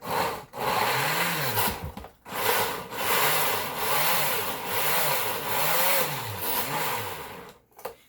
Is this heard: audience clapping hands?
no